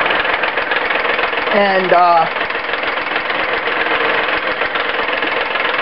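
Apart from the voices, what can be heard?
wood lathe running while wood turning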